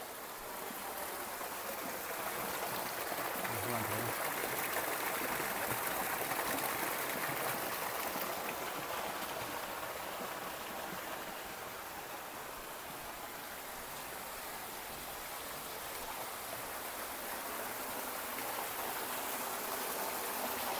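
Mountain stream running through a rocky gully on Mau Son mountain in Lang Son, a continuous close hiss of flowing water, steady and broadband with no break, alone without speech.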